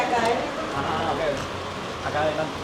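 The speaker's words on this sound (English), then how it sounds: "But it is significantly raining outside, let me tell you." Heavy rain drums on a canopy over an outdoor seating area, a dense steady patter close by, while voices talk beneath it throughout.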